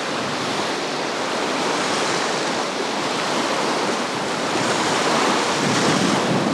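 Sea surf washing onto the central beach at Anapa on an overcast day, a steady broadband roar of breaking waves with some wind rumble, close and continuous, no voices.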